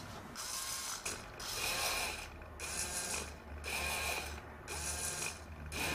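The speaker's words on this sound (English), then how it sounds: "makes the servo go to position 100, wait a second, go to 200," A small hobby servo motor swings back and forth between positions, each move a short whirring, grinding buzz separated by a brief pause, repeating about five times, fairly faint.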